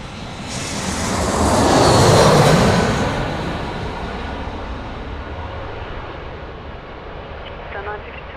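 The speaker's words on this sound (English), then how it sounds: "I always enjoy the China Southern 787 livery." A China Southern Boeing 787 at Sydney Airport makes a broad jet roar that swells to a loud peak in the first couple of seconds, then slowly fades into a steady, softer rumble.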